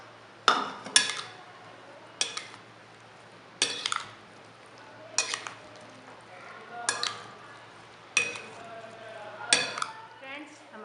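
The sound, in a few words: mixing creamy fruit chaat ingredients in a bowl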